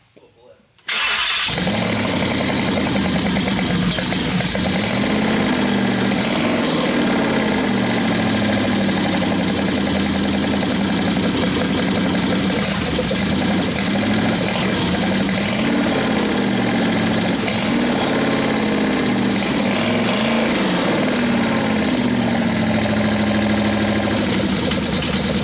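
A truck engine swapped into a supercharged Mustang and fitted with twin turbos idles loud and steady after a sudden start, its rumble running unbroken throughout with people talking over it.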